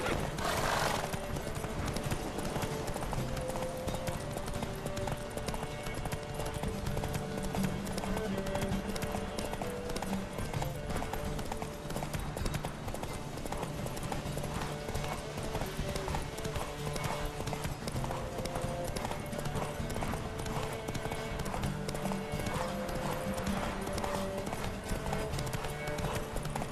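Horses gallop during a race in the video game The Witcher 3, giving continuous rapid clip-clop hoofbeats with occasional neighs and whinnies over a steady music bed, loud and close throughout.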